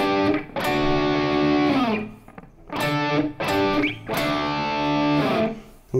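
Distorted electric guitar playing a riff with no low E accents: loud, close bursts of chugging, sustained chords broken by short gaps.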